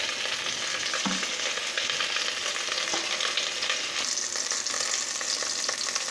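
Chicken pieces fry in hot oil for kuzhi mandi, a dense, continuous close-up sizzle that holds steady throughout with a couple of faint knocks and no talking.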